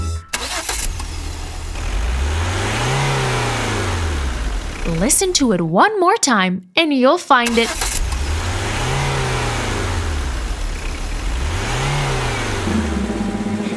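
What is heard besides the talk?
car engine starting and revving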